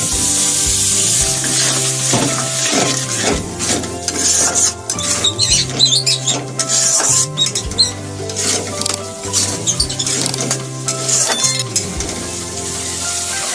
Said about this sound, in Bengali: এখন আমি একটু জল দিয়ে খুব ভালোভাবে মশলাটাকে কষিয়ে নিই